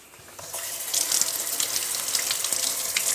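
Tap water runs steadily into a sink as salad leaves are washed under it, a close, continuous splashing gush with slight fluctuations.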